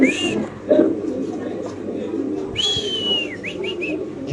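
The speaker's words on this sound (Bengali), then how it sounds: "শৌকিং কবুতর আপনি দেখতে পাচ্ছেন অলরেডি।" Fancy pigeons at a pigeon farm coo and call in short whistling notes near the listener, heard under steady background noise and people talking.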